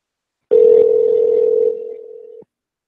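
A telephone dial tone hums steadily for about two seconds as a call is placed, loud and close, with a brief burst of noise near its start before it cuts off abruptly.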